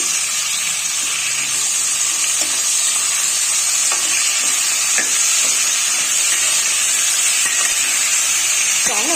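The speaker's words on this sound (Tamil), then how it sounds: "இதை நல்லா வதக்கிக்கலாம்" Brinjal and raw mango pieces are stirred and sautéed with other avial vegetables in a pan, giving a steady close sizzle with occasional scraping stir clicks and no talking.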